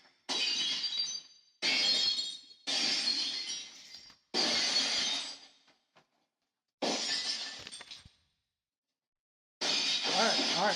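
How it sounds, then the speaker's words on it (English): Glass shatters in six separate bursts of breaking glass, each about a second long and bright and crashing, with short gaps of silence between them. "I don't know about these breaking glass things."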